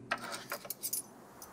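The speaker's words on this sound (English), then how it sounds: "Police car keys." Police car keys jangle in The Quarry video game, a run of light metallic clinks and shakes close by, several brief bright bursts over about a second and a half with no talking.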